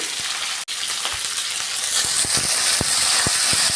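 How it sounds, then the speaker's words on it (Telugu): Onions, green chillies and curry leaves frying in hot oil for a masala dosa potato filling, a close, steady sizzle with scattered pops and the clicks of stirring, alone without talk. "ఇవి కూడా వేసేసుకొని దోరగా వేయించుకోవాలి"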